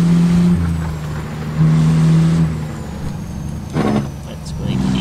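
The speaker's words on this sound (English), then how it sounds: "That Turbo sounds so nice" Truck engine with turbo whine in American Truck Simulator, a steady low drone that swells twice with throttle, broken by a brief air brake hiss near the end, with talk over it.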